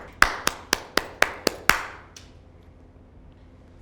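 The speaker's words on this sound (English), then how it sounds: "Okay, I'm beginning to clap again." Seven sharp, evenly spaced hand claps by one person during a classroom game, loud and close, followed by a quiet fading tail of room sound.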